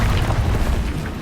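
A Confringo spell explodes in the Hogwarts Legacy video game as a dense, sustained booming blast that fills the whole short moment at high loudness.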